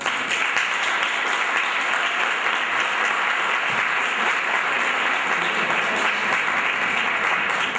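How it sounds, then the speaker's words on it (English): Sustained, loud audience applause fills a theatre at a civil rights celebration awards event at the Lincoln Theatre, Columbus, a dense, steady wash of many hands clapping with no talk over it. "I would like for everyone to give a round of applause and welcome to the stage Mr."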